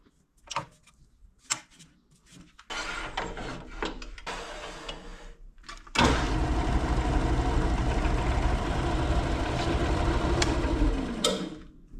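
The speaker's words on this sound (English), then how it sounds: "So let's put it on the lathe and get turning." Red cedar spins on a wood lathe in short bursts, then runs continuously with a loud, rasping rush of the tool cutting the birdhouse bottom, stopping abruptly near the end.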